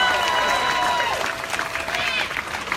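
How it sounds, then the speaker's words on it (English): An outdoor rally crowd of about 200 people applauds, a steady wash of clapping with some cheering, moderately distant, while a voice speaks over it. "Give yourselves a round of applause for coming out here"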